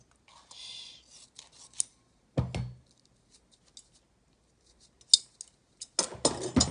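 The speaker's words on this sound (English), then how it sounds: "I shouldn't even be using these scissors to cut this tape" Scissors snipping painter's tape, a few close, crisp cuts separated by quiet gaps, with a brief low thump and a burst of rustling tape handling.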